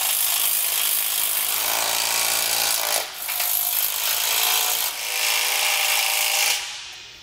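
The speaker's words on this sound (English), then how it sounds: "Now we're going to go around and get all of the bolts tightened down." Bolts being tightened on the steel frame of a Malone MicroSport boat trailer with a power tool: a loud, continuous whirring drive that briefly dips twice before cutting off near the end, with no talking.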